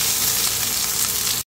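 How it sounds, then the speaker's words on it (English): Garlic and onion sautéing together in hot oil in a non-stick pan, a steady close sizzle and crackle with no talking, cutting off abruptly at the end. "ilalagay na natin sabay si bawang at sibuyas"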